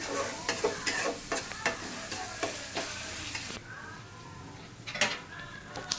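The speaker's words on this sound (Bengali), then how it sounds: "এটা কি পেঁয়াজের সাথে একটু ভাজা ভাজা করতে হবে না?" Minced meat frying with onion sizzles steadily while a utensil scrapes and knocks against the pan in a repeated stirring rhythm, close and moderately loud, with the sizzle easing midway before a few final clatters.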